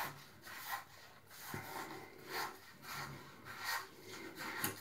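OmniShaver razor cutting stubble during a fast shave: a series of close, rhythmic rasping strokes, roughly one every second, each a dry scraping rub rising and fading, with no talking.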